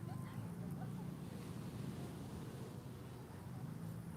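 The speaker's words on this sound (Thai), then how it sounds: "มานั่งอยู่ริมทะเลเช่นเคยค่ะ ทะเลภูเก็ตเนาะ" Wind and surf wash over a Phuket beach, forming a steady, soft roar with faint buffeting of the microphone, a continuous low seaside noise and no distinct wave breaks.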